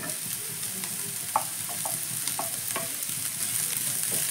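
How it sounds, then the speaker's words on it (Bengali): Green chilli and capsicum fry with onion in a pan, giving a soft, steady sizzle broken by a few sharp stirring clicks and scrapes, close and fairly quiet with no voices. "ক্যাপসিকাম কাঁচা লঙ্কাটাও আমি পেঁয়াজের সঙ্গে 2 থেকে 3 সেকেন্ড একটু ভেজে নেব।"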